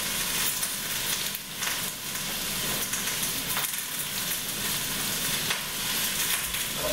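Celery and carrots sizzle in a pot for vegetable broth while being stirred, giving a constant close hiss of frying with soft scraping movements and no talk.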